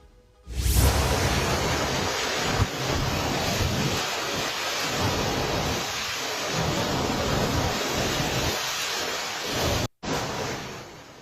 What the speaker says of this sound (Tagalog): malakas na buhos ng ulan na sinabayan ng umuugong na hangin ang humagupit doon